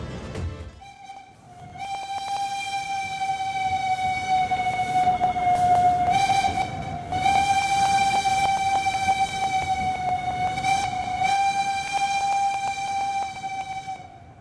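Argo Muria passenger train bound for Semarang sounds a long, steady horn tone that holds loud for many seconds with slight wavers and brief dips, over a rumbling rail background.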